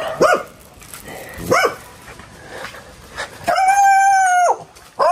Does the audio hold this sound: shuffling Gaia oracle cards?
no